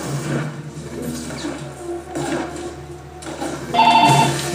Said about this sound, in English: I don't want to answer the phone